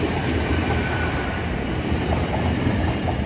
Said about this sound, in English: Oh, it's the Poppy train.